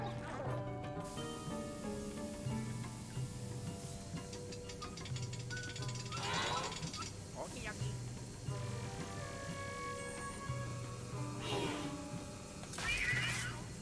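The Polter Kitty ghost cat from Luigi's Mansion 3 meows repeatedly in short, high cries over steady game music, several separate mews spread across the stretch.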